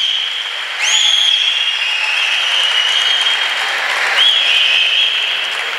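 An audience applauds at a Greek cultural music event for refugee associations, a steady, loud wash of clapping with a high, ringing whistle running through it.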